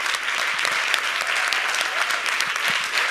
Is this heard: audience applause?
yes